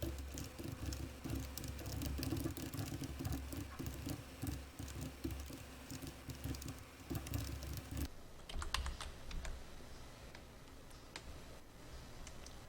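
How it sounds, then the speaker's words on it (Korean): Steady typing on a computer keyboard while entering PowerPoint text, with dense, rapid key clicks that continue without a break, then thin out a little and grow sparser and lighter over the final seconds. "한 문단 입력이 끝나면 엔터를 쳐서 줄 바꿔주고요"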